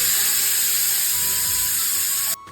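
A pressure cooker cooking pulao lets out a loud continuous hiss of steam that cuts off abruptly near the end.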